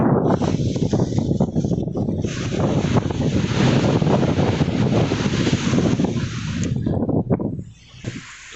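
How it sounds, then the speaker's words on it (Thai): Strong sea wind roars and buffets loudly beside a fishing boat, with wave wash mixed in, gusting continuously before easing toward the end. "ลมก็อาจจะแรงๆหน่อยนะครับ"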